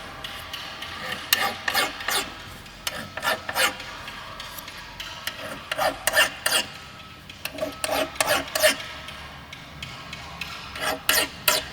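A file rasps along the edge of window tint film on glass in short, rhythmic scraping strokes, grouped in bursts with brief pauses between them, close and fairly quiet, with no speech.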